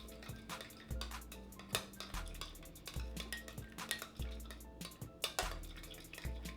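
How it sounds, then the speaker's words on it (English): A spoon mixes seasoning into a meatloaf mixture in a bowl, giving quiet, close scraping and soft wet clinks that repeat in an uneven rhythm. "Now I'm just going to use a spoon and I'm just going to mix this up."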